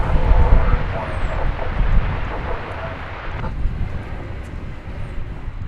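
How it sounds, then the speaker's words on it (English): Gulfstream G600 business jet at Dallas Fort Worth airport, a steady loud jet engine roar with broadband rumble that eases slightly partway through, wind noise on the microphone. "There's this cute little business jet, which is getting ready to go out, is the Gulfstream G600."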